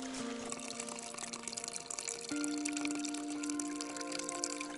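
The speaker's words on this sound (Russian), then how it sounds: "Набираем воду." Icy mountain stream water on the northern slope of Elbrus near 2896 m, trickling and gurgling steadily into a container, quiet and close with a faint tonal hum.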